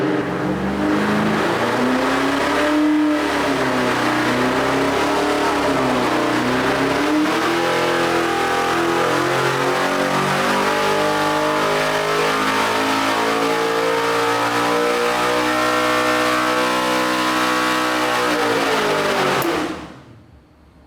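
An LS3-based 404-cubic-inch stroker V8 with hydraulic cam revs hard on a dyno from 4,000 to 7,500 rpm, steadily climbing in pitch for about twenty seconds under load, loud and close, before cutting off abruptly.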